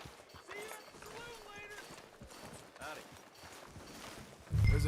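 Horse hooves clip-clop at a walk in Red Dead Redemption 2, soft and uneven beneath ongoing character dialogue, ending in a sudden low thump.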